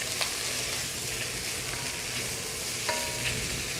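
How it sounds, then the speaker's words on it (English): Onions softening in oil over gentle heat in a pan, giving a steady low sizzle and frying hiss throughout with a few faint stirring scrapes, no talking. "We're going to soften the onions a little bit as well"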